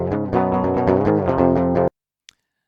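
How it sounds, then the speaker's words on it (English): A dry DI electric guitar track, with no amp or effects, plays a quick run of clean plucked notes for about two seconds, then stops abruptly into silence. "you have one DI track that sounds like this"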